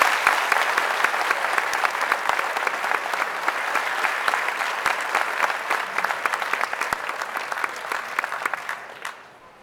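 A large audience at a book festival applauds warmly to welcome cartoonist Jules Feiffer, a dense sustained clapping from many hands that holds steady for several seconds before fading out at the end.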